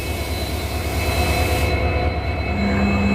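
An Indian Railways WDP-4D diesel locomotive of the Sabarmati shed, at the head of the Haridwar–Bhavnagar express, gives off a loud, steady engine rumble with a constant high whine, then a low drone comes in near the end.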